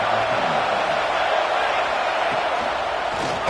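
A football stadium crowd at a Cal vs UCLA game roars and cheers in a loud, sustained wash of voices that holds steady throughout, with no one speaking over it.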